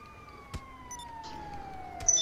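A faint, steady ambulance siren tone in Grand Theft Auto V glides slowly downward, with a couple of sharp clicks and quiet electronic blips around it.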